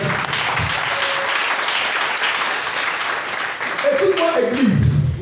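A church congregation claps and applauds continuously, a dense, loud crowd sound that swells toward the end with voices mixed in.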